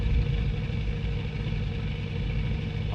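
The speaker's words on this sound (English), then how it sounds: "A fine vintage Evinrude Johnson motor." Vintage Evinrude Johnson two-stroke outboard motor idling steadily up close, a low buzzing putter with even rhythm and no speech.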